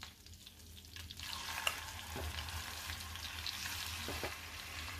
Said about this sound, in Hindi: तो ये 2 बार में हमारे फ्राई हो रहे हैं